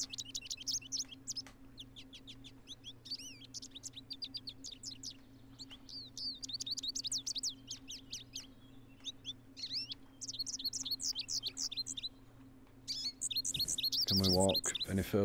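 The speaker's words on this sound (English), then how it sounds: "That bird's right down my ear." Birds chirp and tweet in repeated bursts through a kayak fishing scene in the PC game Fishing Planet, steady close calls over a low ambient hum, with a louder burst near the end.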